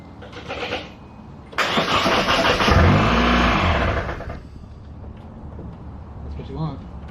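A car engine cranks and catches in a garage during transmission work, roaring up loudly for a few seconds before settling to a lower idle, with people talking around it.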